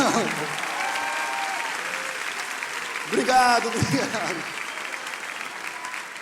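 Audience applause fills a church service, steady clapping from a crowd with a brief burst of louder cheering partway through, and someone speaks briefly over it.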